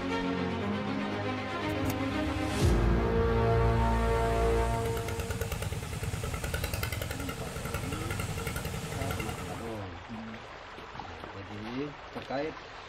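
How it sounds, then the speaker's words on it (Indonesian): A dompeng engine runs steadily at an illegal gold mining site, a continuous loud mechanical drone with rushing water-like noise, and speech heard over it toward the end. "terdengar suara mesin dompeng"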